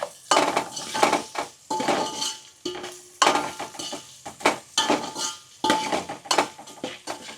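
A spoon stirs chopped onions in a cooking pot for Gujarati green pigeon pea kadhi, making rhythmic metallic scraping strokes and clinks in uneven bursts over a soft sizzle, close and clear with no voices.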